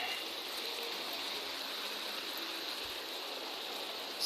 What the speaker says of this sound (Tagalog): ulan pa jud